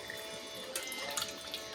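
Faint running tap water splashes into a mixer jar being rinsed in a kitchen sink, a soft steady trickle with a few brighter splashes and drips.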